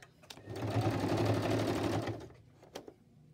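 A sewing machine stitches in one steady burst of about a second and a half, a close, even, rapid whirring hum that starts and stops cleanly, with a few small clicks before and after.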